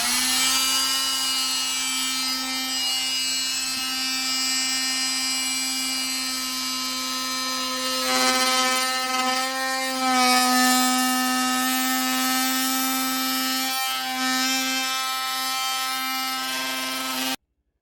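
A Fein oscillating multi-tool, set to speed 4, buzzes steadily through a cut during a lower kitchen cabinet removal, a loud, sustained high-pitched whine that wavers slightly in pitch over about eighteen seconds.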